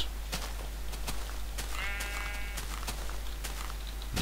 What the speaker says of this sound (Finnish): Lammas.